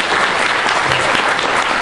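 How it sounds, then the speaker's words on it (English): An audience at a comedy Q&A bursts into sustained applause, a dense wash of clapping hands that stays loud and even from start to finish. "Round of applause for this chap, ladies and gentlemen."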